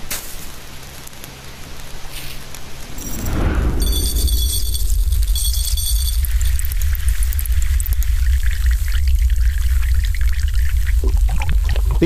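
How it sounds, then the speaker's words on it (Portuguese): Salted water boiling in a pot, a steady broadband rush and hiss like pouring or heavy dribbling that starts abruptly after a few seconds and continues loud and even, with faint high clinks over it. "água fervente com sal poderia ser tão hipnotizante"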